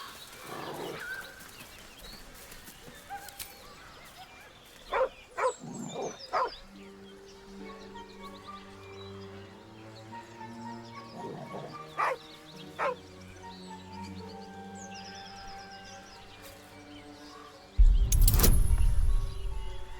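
A dog barks in Baldur's Gate 3. Several short barks and yips come in small bursts over soft game ambience and sustained tones, and a loud burst of noise arrives near the end.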